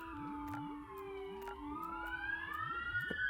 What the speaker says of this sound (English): sorry for the sirens outside